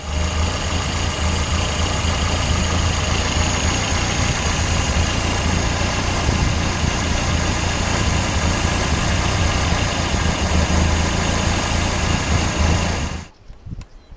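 A BMW E36 engine idles steadily and loudly close by for over ten seconds with coolant circulating, a constant low mechanical hum that cuts off abruptly at the end.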